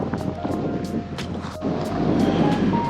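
Steady wind roars and buffets outdoors beside a road in the Tintic Mining District, with gusts pressing against the microphone and a constant low rumble underneath.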